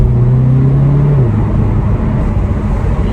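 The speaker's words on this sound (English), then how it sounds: "I'll take it down to first and give it a pull." A Seat Cupra 290's engine, with a GPF and resonator delete, revs hard and loud in first gear, a steady droning pull that drops in pitch partway through, with constant road noise underneath.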